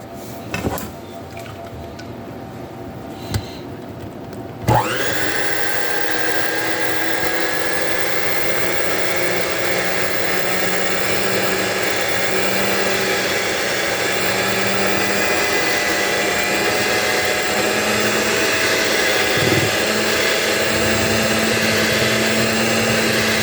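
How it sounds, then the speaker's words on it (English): A handheld electric mixer blends a milk mixture for Boston cream cupcakes on low speed, starting with a few clicks and a handling bump, then switching on into a loud, steady motor whine that runs continuously. "we're going to combine it inside on a low speed with our handheld blender or our standard mixer at home until it's fully combined"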